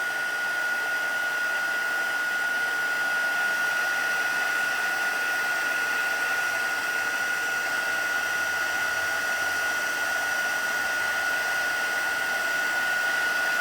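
A heat tool for embossing blows steadily on a stamped card, a constant close whooshing hum with a high whine, running alone without pause.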